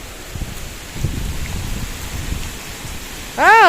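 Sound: heavy rain falling during cyclone Remal

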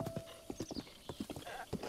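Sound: horse hooves clip-clopping in the video game Zelda: Breath of the Wild

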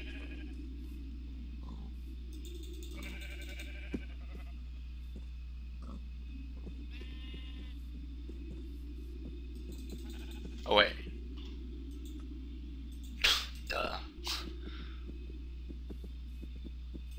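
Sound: sheep bleating in a video game

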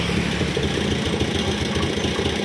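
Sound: Honda Scoopy scooter engine sputtering, not running properly

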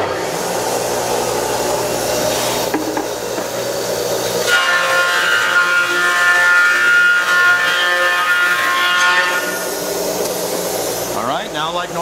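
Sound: wood planer planing a glued-up board

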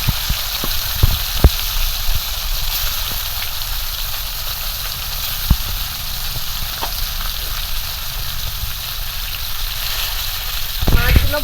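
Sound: small fish frying in oil

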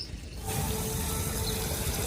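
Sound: spraying water on a tree in the yard

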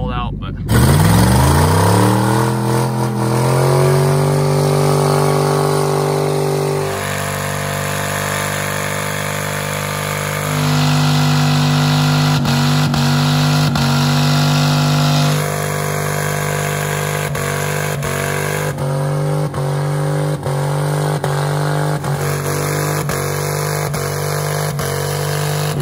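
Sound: truck engine revving during a burnout

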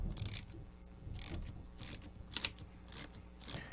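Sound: socket wrench tightening bolts on CNC machine

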